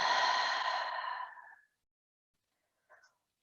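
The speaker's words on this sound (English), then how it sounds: "Inhale fully. Exhale completely." A long, deep breath pushed out slowly during a yoga breathing exercise, loud and breathy at first and trailing off over about a second and a half, with a faint soft breath sound after a pause.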